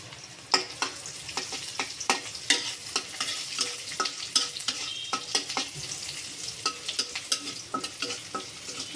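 Crushed ginger added to black gram dal frying in a pan sizzles steadily, with frequent scraping stirs and light utensil clicks over the crackle, close and moderately loud throughout.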